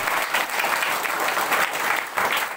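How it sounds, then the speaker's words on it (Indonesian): Sustained crowd applause at an evangelistic revival service (KKR) in Amabi Oefeto Timur, dense steady clapping filling the whole stretch without voices. "Beri tepuk tangan yang terbaik."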